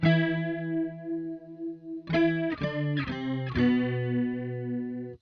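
A guitar through a Roland JC-120 amp with the vibrato slowed down: a decaying chord, then a run of picked chords whose pitch bends slowly up and down, clear and close without speech.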